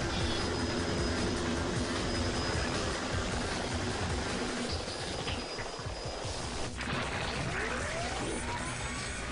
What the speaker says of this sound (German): Guck mal, einfach mal ein Helikopter aus dem Nichts.